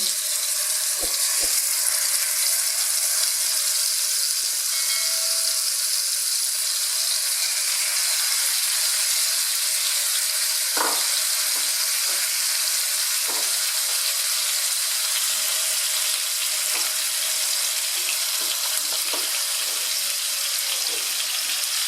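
Pieces of fish for a kasuri fish fry, skin side up, sizzling in moderately hot oil in a pan, a dense steady crackling hiss with a few soft clinks and taps, no talking.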